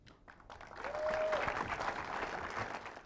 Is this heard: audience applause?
yes